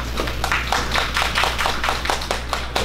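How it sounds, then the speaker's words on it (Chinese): An audience at a presentation on Lua templates and Wikidata claps in a quick, even rhythm of sharp, close claps over a low steady hum. "那我们就拍手"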